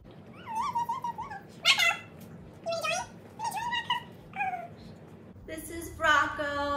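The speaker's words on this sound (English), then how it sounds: "This is a good dog." A dog whimpers and whines in a series of high, wavering cries with short pauses between them, close by in a home during a clothing haul and try-on, with a steady low hum underneath.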